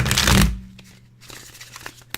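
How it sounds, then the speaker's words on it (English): Tarot cards are shuffled at close range in a short burst of brisk riffling and flapping, followed by quieter handling taps and rustles. "I'm feeling like one more shuffle"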